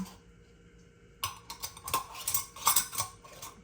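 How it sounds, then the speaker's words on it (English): Metal canning jar lids clink and scrape as they go onto jars of okra and peppers and are twisted finger tight, a quiet run of small irregular metallic taps after a brief near-silent start. "And then you take your lids and seal them"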